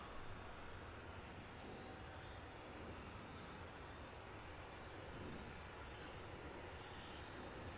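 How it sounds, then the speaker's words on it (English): A Wizz Air airliner, flight 3751 from Craiova, arrives at London Luton Airport, a faint, distant, steady jet rumble with no voices over it. "That arrival is one of the many Wizz Airs that are going to be making their way into the airfield this morning"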